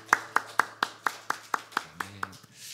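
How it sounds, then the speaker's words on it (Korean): A church congregation at a morning worship service clapping in a steady, even rhythm of about ten claps, close and clear, with a brief voice underneath near the end. "우리와 함께 하시는 하나님께만 감사와 찬양 박수 드렸으면 좋겠습니다"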